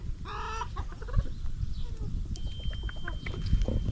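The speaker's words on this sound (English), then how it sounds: "there's lots of chickens out there" Chickens clucking on a farm, a busy flock heard close and steady throughout with overlapping clucks and calls, no talking.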